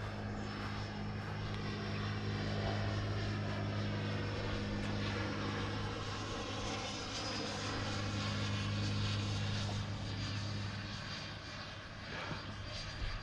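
A 105mm HSDJETS S-EDF Super Viper radio-controlled jet on 12s power sounds in flight as a steady, loud, continuous ducted-fan whine and roar that holds level throughout, with a faint dip near the end.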